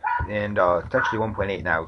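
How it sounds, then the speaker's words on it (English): Several dogs yap and whine repeatedly behind someone talking, the high barks coming in short rapid bursts throughout and nearly as loud as his voice. "Sorry for the dogs yapping in the background"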